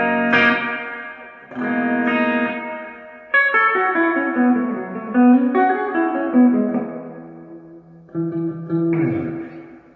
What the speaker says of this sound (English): it still sounds pretty good for a digital reverb